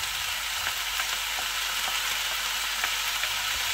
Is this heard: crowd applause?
no